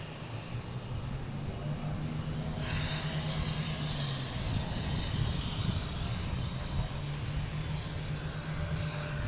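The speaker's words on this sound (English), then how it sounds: "I got this Delta landing here from LaGuardia" A Delta jet arriving from LaGuardia lands at Boston Logan, its engines making a steady, broad roar that swells and holds over continuous airport rumble, with no voices over it.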